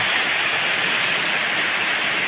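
Steady, dense rain falling in the early evening around a rural home, a loud continuous hiss with no pauses and no voices.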